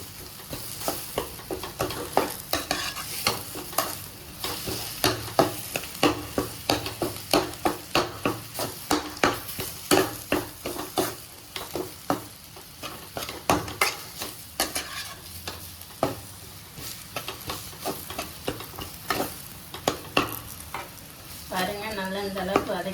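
Potato masala for tea-shop bonda is sautéed in oil, a spatula scraping and tapping the pan in a quick, steady rhythm over continuous sizzling, close and clear with no talking.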